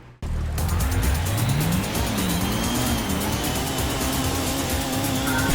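Race cars in Gran Turismo on the PlayStation roar off the starting line, engines revving loud and continuous with rising pitch sweeps as they accelerate together.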